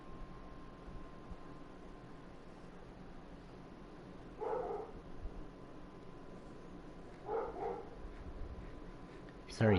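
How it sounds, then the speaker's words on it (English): Dogs bark from another room in two short muffled bursts several seconds apart, faint and distant beneath a steady hum of game sound, with a sharp noise at the very end. "Sorry if you hear dogs barking in the other room."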